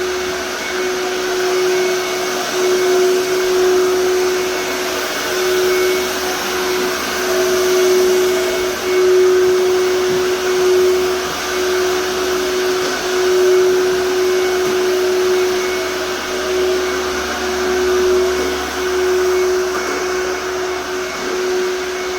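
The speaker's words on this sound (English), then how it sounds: "And vacuuming up now." A vacuum cleaner runs steadily over a hardwood floor freshly buffed with 320-grit, a loud, constant whine with a sharp tonal hum and rushing air, never pausing.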